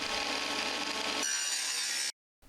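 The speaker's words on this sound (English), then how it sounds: "My trusty 1960s vintage Durden Junior joiner" A 1960s vintage Durden Junior joiner planing timber, a loud, steady broadband machining roar that changes character midway and then cuts off abruptly near the end.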